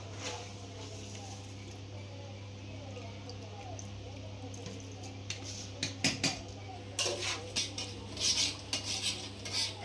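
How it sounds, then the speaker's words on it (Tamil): Rice goes into a biryani pot and is stirred, with metal scraping and clinking against the pot that grows louder and choppier toward the end over a low steady hum. "பாருங்கள் இப்போ அரிசியை சேர்த்துக்கலாம்."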